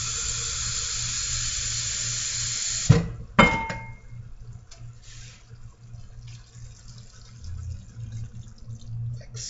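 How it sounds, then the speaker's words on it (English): Liquid pours into a pan holding a broken-up beef bouillon cube for a low-fat shepherd's pie, a short splashy pour near the start followed by quieter trickling and low background hum. "And then I'm going to add just a little bit of liquid."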